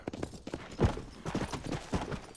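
Horse hooves clip-clop in the video game Red Dead Redemption, a quick irregular run of thuds at moderate level, no talk.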